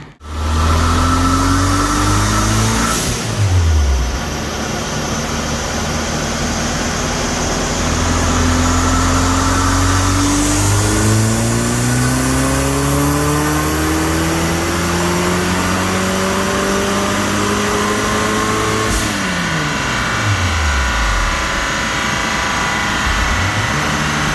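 A turbocharged Pontiac Solstice engine revs hard on a dyno in repeated pulls. Each one climbs loudly and steadily, then drops off sharply, with no one talking.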